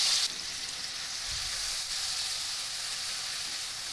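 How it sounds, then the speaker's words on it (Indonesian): Ground spice paste for sayur lodeh frying in hot cooking oil in a large wok, a steady close sizzle and hiss with a soft stir and clink near the start, no talking. "Panaskan wajan besar atau panci, beri 3 sendok makan minyak goreng. Setelah panas, masukkan bumbu halusnya."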